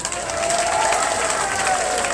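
Dense, steady applause from a large audience at a Yoruba cultural gathering, loud and continuous with a wash of crowd noise throughout.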